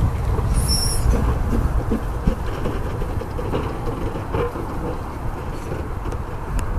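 Steam locomotive Merddyn Emrys moves around at Harbour Station: a steady, close rumble of rolling rail wheels with faint squeals and rattling, continuous and fairly loud throughout.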